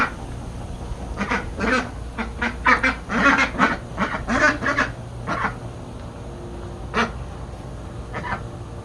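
Young ducks quack in loud, rapid bursts close by on a desert homestead, a busy cluster of calls that thins out to a few scattered quacks.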